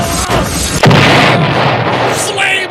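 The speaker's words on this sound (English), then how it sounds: "Flames and fire and explosion." A loud explosion bursts with flames and fire, a sharp boom landing about a second in and giving way to a roaring, crackling rush.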